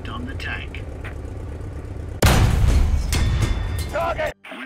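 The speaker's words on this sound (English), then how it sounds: "Now, fire at the fighting compartment on the tank." A tank cannon fires in a War Thunder tank battle, one sudden loud blast that rolls into a long rumbling decay over an idling engine, with a sharp clank near the end; a voice talks before the shot.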